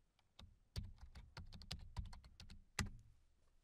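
Quiet, close computer keyboard typing while entering a password: about a dozen crisp key clicks in an uneven burst, with no talking.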